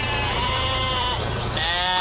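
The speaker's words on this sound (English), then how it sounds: "Look at those sheep." Sheep bleat in a cartoon farm scene, several wavering calls overlapping across two seconds over a steady musical background, with a fresh bleat rising near the end.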